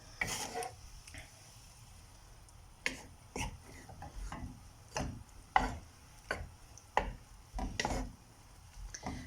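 Wooden spatula stirring chicken breast with spices and garlic in a pan, a quiet background broken by a dozen or so irregular knocks and scrapes against the pan, no voices.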